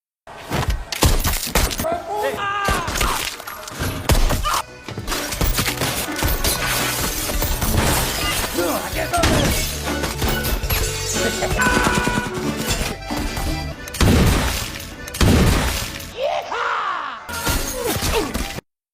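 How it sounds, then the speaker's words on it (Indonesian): Gunfire erupts in a shootout from a 2021 action film about a hitman taking revenge on a mafia, with loud dense bursts and crashes filling nearly the whole stretch, blended with music and effects. "Sehingga baku tembak pun terjadi di tempat itu."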